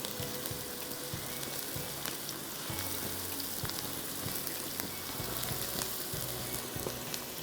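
Onions fry in a pan until light golden, a continuous close, bright sizzle with fine crackling and occasional low stirring thumps, steady throughout.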